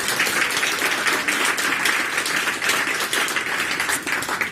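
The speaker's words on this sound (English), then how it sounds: "Round of applause for them." A conference crowd at an employee happiness event breaks into a short round of applause, brisk and dense clapping that fills the room for several seconds with no speech on top.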